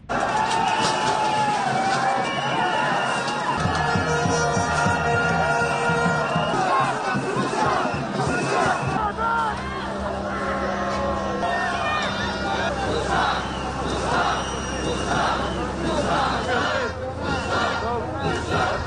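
A large crowd of Israeli protesters surges at Netanyahu's house, producing a dense, continuous roar of shouting and chanting voices. A steady low rumble runs beneath it, and the noise stays loud and close throughout.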